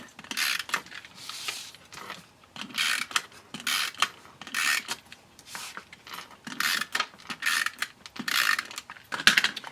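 A Snail adhesive tape runner rolls glue onto paper tabs for a Christmas treat box, a series of short ratcheting, clicking strokes in uneven bursts with pauses, close and quiet.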